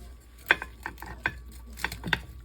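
A knife cuts down the middle of a fried turkey leg on a plate: a short run of crisp, close clicks and scrapes as the blade works through, each one brief and separate.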